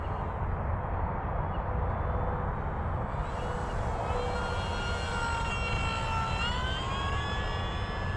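An FMS Maule 1500mm STOL model airplane cruising slowly with flaps down, its electric motor giving a continuous buzzing drone with shifting whine as the throttle and distance change, heard outdoors without talk.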